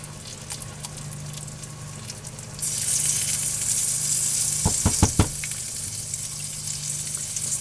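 Roasted root vegetable soup heating in a pot, a soft simmer that swells into a steady bubbling sizzle partway through, with a few sharp clinks of a spoon or lid against the pot.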